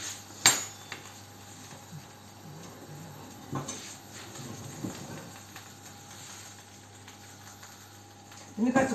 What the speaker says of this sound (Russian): Сейчас подвину жульенчик сюда.